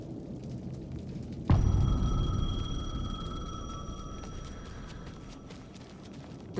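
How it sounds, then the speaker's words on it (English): A payphone rings in Alan Wake 2, its single sustained electronic ring starting abruptly and holding for several seconds over a low, rumbling in-game ambience, with no talking. "The payphone was ringing."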